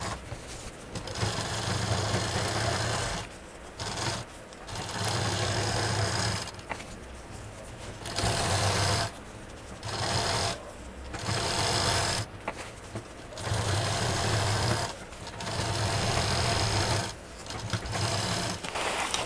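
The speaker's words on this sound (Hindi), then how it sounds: "अब इसको सिलने के बाद ये जो 3 तरफ एरिया बचा है इसको हम सिल देंगे।" An electric sewing machine stitches fabric for a multi-use hanger, running in repeated bursts of a few seconds with a steady whirring hum and pauses between runs, close and fairly loud with no talking.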